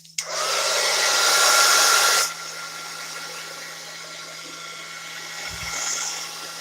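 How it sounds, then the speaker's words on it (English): A heat gun drying a paper journal cover made from a 6x9 envelope: a loud, steady blowing whir for about two seconds, then a quieter lingering hum with faint handling noises. "let me heat this up with the heat gun to get it dry so we can flip it and fix that one side"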